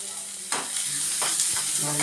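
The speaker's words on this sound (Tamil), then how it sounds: "வெங்காயமும் இந்த மிளகாய் வற்றலும் போட்டு வணக்கிடணுமா" Onions and dried red chillies sizzle in a hot pan, with a few sharp stirring scrapes and bursts of crackling over a steady fry.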